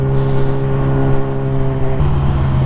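A Lamborghini Gallardo passes by as heard from a Yamaha R6 sportbike, a loud steady engine drone with a tonal hum that swells slightly toward the end.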